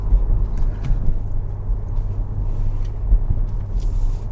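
A Kia Stinger GT in sports mode drops a gear, its engine giving a steady low rumble close by with faint road noise and no talk.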